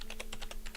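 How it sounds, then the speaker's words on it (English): Rapid clattering keystrokes on a computer keyboard, about seven evenly spaced clicks in quick succession, close and steady over a low constant hum, with no speech. "let me just get my hands on the keyboard"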